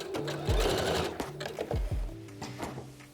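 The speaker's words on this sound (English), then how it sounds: "I'm just going to do a little back stitch." A domestic sewing machine sews a short back stitch on a top-and-bra garment, running in close, loud whirring bursts that stop and restart several times as the direction reverses.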